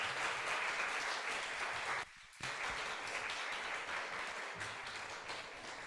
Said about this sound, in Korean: 우리 박수 치면서 환영하면서